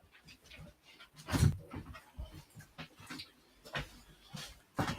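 Bobby the dog comes in through a house door, with close panting, a brief whimper and scattered scrabbling, clicking bursts of movement over about five seconds, louder spikes near the middle and end, and no talking.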